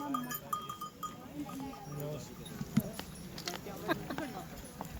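Horses walking on a mountain trail in Pakistan's Shogran and Siri Paye area, hooves clip-clopping in an uneven, quiet patter beneath faint ambient noise and distant voices.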